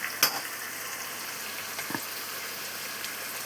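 Chopped onions sizzle in a hot pan of tempering for rasam, a steady soft frying hiss with a brief louder crackle near the start and a few faint stirring touches.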